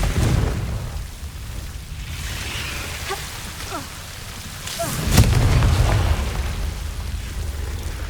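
A Confringo blasting spell goes off in the Hogwarts Legacy video game: one sudden, loud explosive burst over a rumbling, rain-like ambient bed, which then fades.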